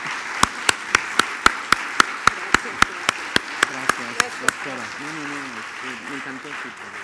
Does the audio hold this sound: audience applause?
yes